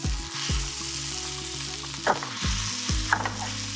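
Beef bulgogi in soy sauce sizzles and fries in a pan after being flipped, with steady close hiss, a few spatula scrapes and clinks and low rumbling thumps, no voices.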